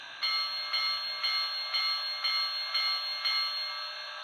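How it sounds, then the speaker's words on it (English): The bell of an HO scale model Pennsylvania Railroad Q2 steam locomotive's Soundtraxx sound decoder clangs steadily, about eight evenly spaced strikes over a constant hiss, loud and close, with no voices. "Then the bell."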